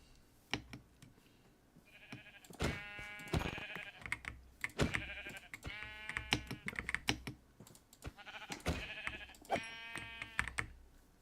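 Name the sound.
sheep bleating in a video game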